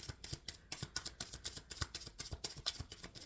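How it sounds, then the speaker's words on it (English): Rapid, crisp riffling of a tarot card deck, repeated bursts of shuffling at a quick, uneven rhythm, close and fairly soft. "Shuffling, shuffling, shuffling."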